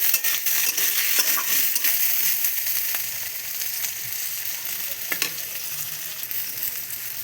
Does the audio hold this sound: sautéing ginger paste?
yes